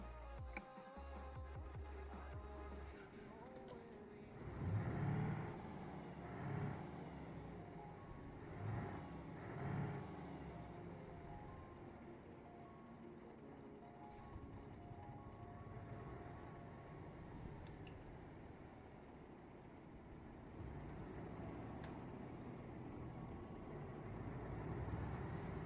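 A Scania truck in Euro Truck Simulator 2 with louder exhaust settings, a steady low engine drone with swelling revs and shifts, a moderately quiet, continuous rumble throughout.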